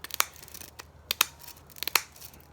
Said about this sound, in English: get yourself a good pair of scissors like I have here, and start cutting all the way around